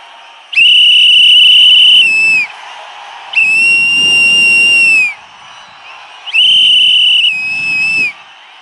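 Whistles blown by a crowd at a TVK political campaign rally in Kanyakumari: three long, loud, sustained shrill blasts separated by short gaps, with a low crowd murmur underneath.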